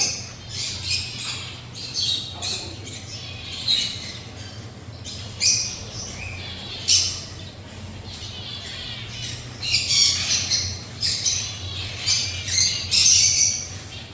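Several kinds of birds call around a rural spot: sharp squawks and chirps come in repeated bursts at moderate distance over a steady low hum, with no talking.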